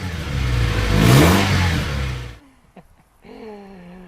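A Honda Civic EK3 hatchback on its earlier exhaust revs up hard and climbs in pitch, then cuts off abruptly, leaving near-silence and a brief, quieter rise at the end.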